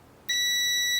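A single steady, high-pitched electronic beep from a multimeter continuity test sounds for just under a second, clean and close, after a moment of quiet.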